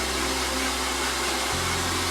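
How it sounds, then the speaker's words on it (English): Hair dryer blow drying a wet hairpiece, a loud steady close whoosh and whine that drops to a lower hum partway through, with no talking. "Now Juan is going to blow dry it and show you how we blow dry it."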